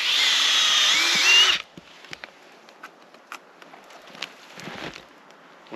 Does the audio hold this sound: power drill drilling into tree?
yes